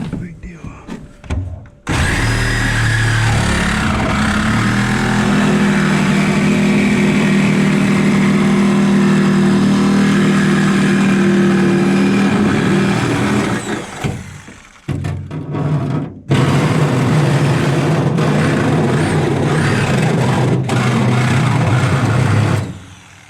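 A Ryobi Sawzall cuts through double-thick steel on a car subframe with a loud, steady grinding buzz. It runs for most of the clip, with a short break partway through before cutting resumes.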